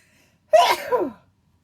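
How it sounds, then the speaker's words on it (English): A single loud human sneeze bursts out of near silence, sharp at the onset and trailing into a short, breathy tail. "Oh, I'm gonna sneeze."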